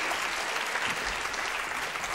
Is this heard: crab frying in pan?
no